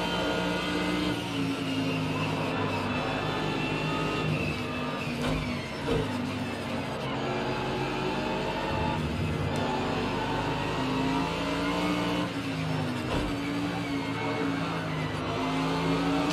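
Race cars, including a Mercedes AMG GT3, run the Nordschleife in Project Cars 2, with a steady, dense engine drone and shifting revs that hold throughout with no break.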